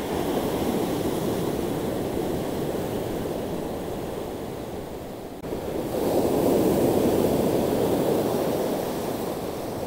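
Ocean waves roll in at Middle Cove Beach, a broad continuous rushing surf with wind, easing slightly before a louder swell builds and washes in near the end.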